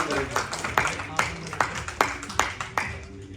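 Applause from a group at an association's December meeting, steady clapping with sharper bursts recurring about every half second, fairly close and continuing throughout.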